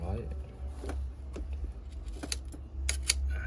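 Mechanical clicks and ratcheting snaps from a Ricohflex twin-lens film camera as the film is wound and the shutter released, several short crisp clicks heard close up with someone talking over them.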